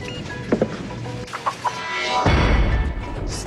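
Hens clucking in an Egg Beaters TV advert, a few short clucks and bird calls over a steady background bed, with a louder rustling or whooshing burst toward the end.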